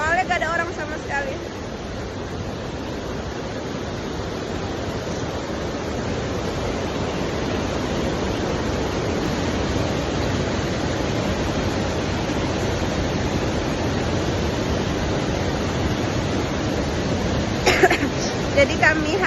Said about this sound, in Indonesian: Kami udah nyampe di air terjun Sialogo